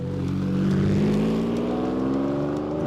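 Lamborghini Countach engine droning steadily from inside the car, a dense low rumble with a slowly rising pitch as it pulls, no voices over it.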